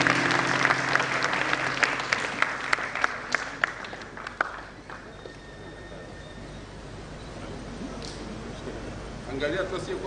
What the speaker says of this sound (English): we celebrate, please cheer him up